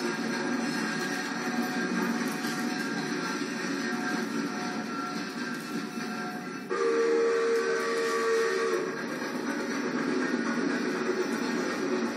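A steady, breathy steam train whistle with hissing steam holds for several seconds, its tone shifting partway through; a continuous rumble sits beneath.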